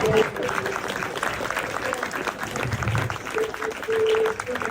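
A theater festival audience applauds, a dense patter of clapping running continuously throughout, with a voice speaking over the crowd at moments.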